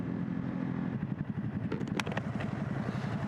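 A motorcycle with a quick shifter being ridden, its engine a steady close rumble throughout with brief clatter partway through and no talk over it.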